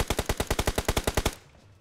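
Automatic gunfire in a shooting video game: a rapid burst of about a dozen evenly spaced shots, loud and close, ending abruptly with a short decaying tail and no talking.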